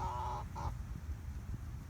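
Chickens calling near the microphone, with two short honking, goose-like squawks in the first half second, then quieter rustling and low background noise without further calls.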